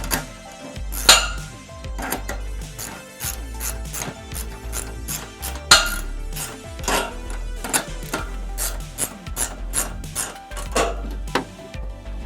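A 15 mm wrench tightens a bolt during setup of an A6 unit, giving a quick series of sharp metallic clicks and ratcheting taps with small knocks and handling rattles, close and irregular.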